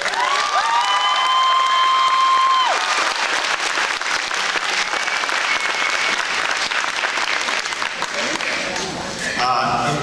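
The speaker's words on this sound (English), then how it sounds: "So maybe just another round of applause." Loud sustained applause and cheering from an audience at an 8th grade graduation ceremony, a dense clapping wash with whoops that continues steadily and fades slightly near the end.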